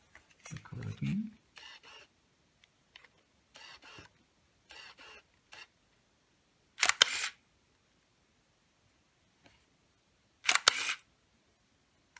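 A Canon EOS 3000N film SLR fires its shutter on a long exposure, two crisp mechanical clacks a few seconds apart, the curtain opening and then closing, amid soft handling noises.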